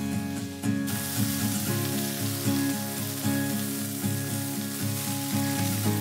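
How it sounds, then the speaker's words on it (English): Onions sauté in chili oil for vegetable chow fun noodles, a bright, steady sizzling hiss that stays fairly loud throughout, with tonal background music running beneath it. "Saute the onions for 2 to 3 minutes."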